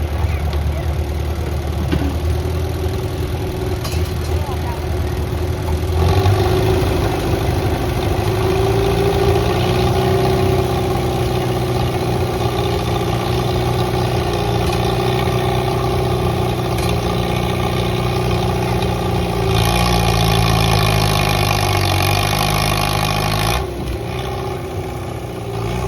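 An antique tractor engine runs steadily at a tractor pull in the 3,000 pound class, a loud, close, continuous rumble whose pitch shifts with a few revs, while voices carry faintly through it.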